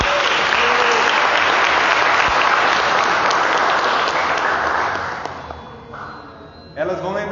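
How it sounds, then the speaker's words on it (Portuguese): Church congregation applauding loudly and continuously, a dense wash of clapping that fades toward the end as a voice begins speaking over it. "vamos aplaudir a Deus."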